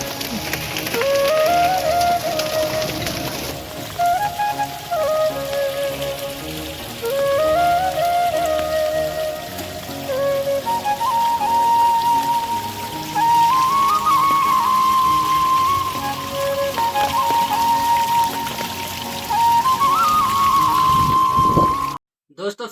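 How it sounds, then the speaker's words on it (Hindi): Large hailstones fall with heavy rain, a dense, continuous drumming and hiss that holds steady and loud throughout, overlaid by a wavering whistle-like tone that rises and falls repeatedly. "इतने मोटे ओले गिर रखे हैं दोस्तों, ये देखो कितने मोटे और भयंकर ओले हैं"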